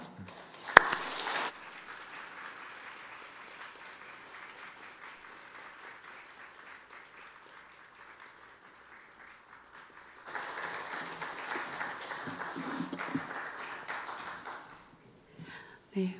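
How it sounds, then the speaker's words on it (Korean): A church congregation at a Sunday afternoon welfare committee service gives encouraging applause to a speaker coming forward, faint scattered clapping that fades to quiet, then swells again in a second burst near the end. "격려의 박수를 한번 해주시기 바랍니다"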